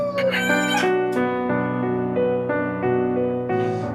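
A rooster crows loudly and close by on a farm keeping fancy chicken breeds, with long tonal calls overlapping one another over about four seconds.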